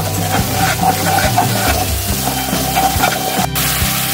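Spice paste with a little chilli powder sautéing in a pan for a Bengali ilish sorshe posto jhal, a steady close sizzle with faint stirring scrapes running throughout, with no talk.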